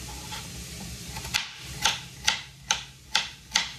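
A knife chopping small potatoes for a vegan mushroom cream soup: six evenly spaced, sharp taps on a cutting board, close and fairly quiet, over a low background hum.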